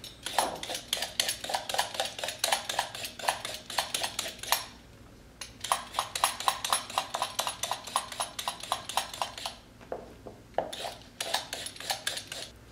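Rapid rhythmic scraping of a peeler stripping trimmed carrots for kimchi, in dense bursts of quick strokes with two short pauses, close and fairly loud.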